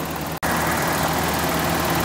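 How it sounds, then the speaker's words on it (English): A 1992 Toyota pickup's 22RE four-cylinder engine idles steadily right after a jump start, a continuous close rumble with one very brief dropout early on. "Check out this powerful, ultra reliable 22RE engine."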